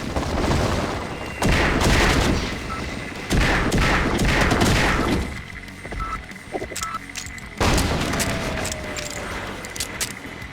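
Rapid bursts of loud revolver gunfire in Half-Life V3, two guns dual-wielded, in volleys of several close shots separated by short lulls with fainter game sounds.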